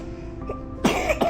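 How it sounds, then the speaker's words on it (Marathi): A child coughs twice, sharp and close, after a few seconds of near quiet with faint background tones. "खोकला आहे तुला त्रास होतोय"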